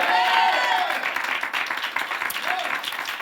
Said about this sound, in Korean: 먼저 우리 하나님께 박수로 영광을 돌리겠습니다